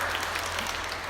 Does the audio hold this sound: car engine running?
no